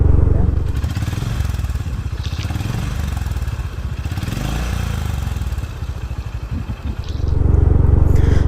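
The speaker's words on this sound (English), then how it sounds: "this is how the stock exhaust used to sound" A Honda H'ness motorcycle with its stock exhaust rumbles at idle in a low, steady throb that dips briefly mid-clip before swelling louder, with brief clatter and speech over it.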